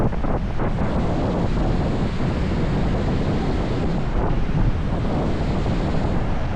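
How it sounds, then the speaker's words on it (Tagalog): Strong coastal wind buffets the microphone in a continuous loud roar along a seaside road with a breakwater, with a broad rushing noise like surf underneath and no voices. "Kasi malakas po yung hangin"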